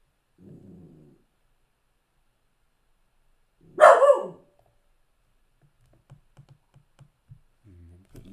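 One loud, close bark from a dog breaks a quiet room, with a brief low murmur before it and light keyboard clicks afterward.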